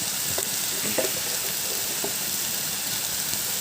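Dhekia fern greens fry and sizzle steadily in a pan, with a constant broadband hiss and a few soft scraping stirs of a spoon breaking through near the mic; no voices.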